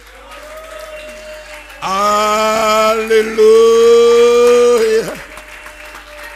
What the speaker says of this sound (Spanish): Levántese y déle un aplauso al Dios Todopoderoso.